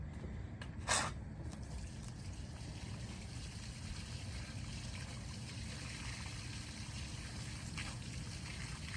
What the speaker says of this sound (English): when I'm filling my watering can, it kind of agitates it up